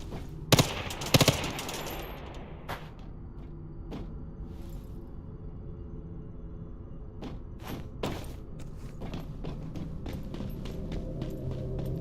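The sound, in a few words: SMG gunfire in video game Once Human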